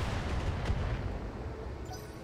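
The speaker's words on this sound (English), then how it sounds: "Firing all weapons." Mech weapons fire in BattleTech on PC, a dense low rumbling barrage of blasts with a sharper burst near the middle, sustained and loud throughout with no talk.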